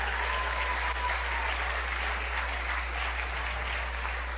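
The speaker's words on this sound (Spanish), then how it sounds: "Denle un fuerte aplauso al Señor," A church congregation at a worship service gives loud, sustained applause, an even roar of many hands over a low steady hum from the hall's sound system.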